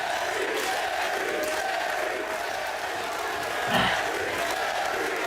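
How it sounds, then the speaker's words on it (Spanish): Cheering and applause rise from the crowd at a freestyle rap battle, a steady broad roar of voices that holds throughout with a brief louder burst near the end. "Oye, ¿en serio vais a aplaudir?"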